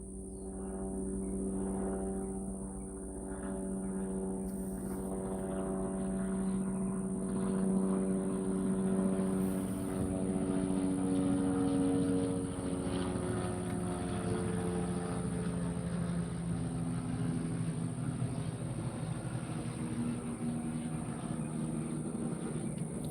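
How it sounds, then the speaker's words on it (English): A Black Hawk helicopter passes low overhead, its steady rotor drone and engine whine building to a loud, close peak mid-pass before easing slightly, with no talking. "Here comes a Black Hawk helicopter. Right over me."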